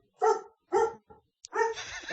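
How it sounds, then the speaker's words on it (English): A dog at home barks nearby: two loud, sharp barks, a softer short yap, then a longer bark, with quiet gaps between and no talk. "Animals start barking."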